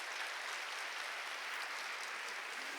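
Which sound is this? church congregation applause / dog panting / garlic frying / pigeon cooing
church congregation applause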